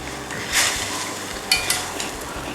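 Sliced onion cooking gently in mirin in a pan, giving a steady soft sizzle with a few brief clinks and stirring scrapes over the simmer.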